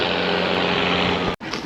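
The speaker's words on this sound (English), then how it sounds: "Oh, tractor, tractor." A tractor engine drones loud and close for over a second, a dense steady roar with a low hum, then drops away abruptly as it passes, leaving quieter wind-blown road noise.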